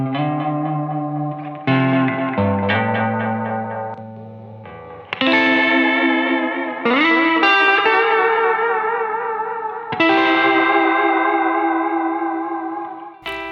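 A blue Stratocaster electric guitar runs through a JHS Oil Can Delay pedal with a little drive in front, playing ringing chords and single notes that trail off in repeating echoes and a reverb-like wash.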